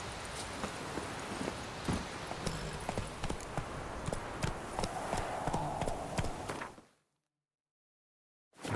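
Hooves of Geralt's horse Roach in The Witcher: Wild Hunt, a steady clip-clop of trotting steps over soft ambient game sound, moderately close, then cutting to silence near the end.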